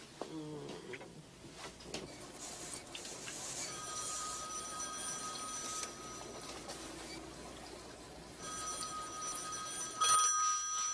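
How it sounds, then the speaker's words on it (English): A telephone rings in two separate bursts of bright, steady trilling, moderately faint over a low room hum, with no one speaking. "answer the phone"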